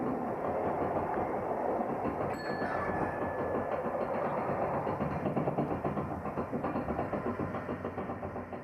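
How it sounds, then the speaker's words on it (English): Train running along the line past a bi-directional passing loop toward Kirton Lindsey Station in North Lincolnshire, a steady loud rumble with a rhythmic clickety-clack of wheels over rail joints growing more pronounced toward the end. "which the train, on its way towards Kirton Lindsey Station, is now passing"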